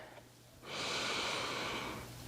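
A slow, steady breath during a yoga hamstring stretch, drawn in softly then released as a long, breathy exhale, close and quiet with no talking.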